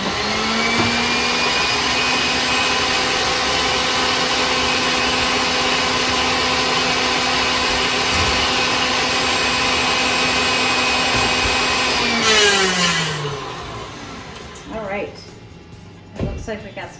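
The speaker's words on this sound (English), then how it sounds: "I'm just going to mix it for a little bit, a few more seconds, I think, here." Electric hand mixer whipping heavy cream with confectioners sugar for a key lime pie garnish, a steady loud motor whine that runs continuously for about twelve seconds, then spins down and stops.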